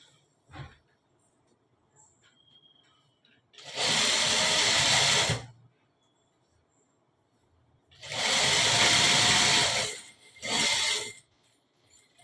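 A sewing machine stitches gents' pants in three loud, close bursts of rapid whirring, two longer and one short, separated by quiet pauses with faint handling noise.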